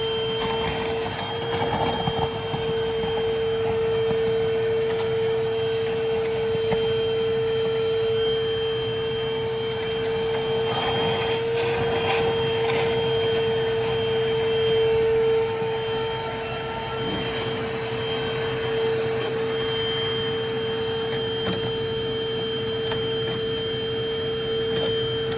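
A vacuum sucks thick slime out of a leaking freezer's drain line with a constant whining hum and occasional gurgling slurps, heard alone for the whole stretch.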